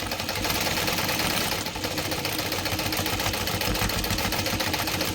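A sewing machine stitching a seam slowly, a steady close mechanical whir with a fast rhythmic chatter running continuously, briefly dipping once before carrying on.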